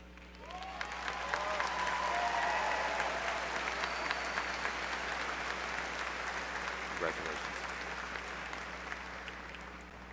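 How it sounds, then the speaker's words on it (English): Audience applause for a doctoral graduate at a summer commencement ceremony, a broad, distant wash of clapping from a large crowd that swells early and stays sustained, with whoops and faint voices over a steady hum. "Please join me in extending another round of applause for our doctoral graduate."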